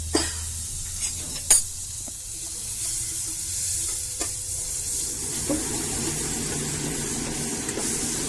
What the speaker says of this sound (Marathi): कढई चांगली तापलेली आहे त्यामध्ये आपण हे बटर घालू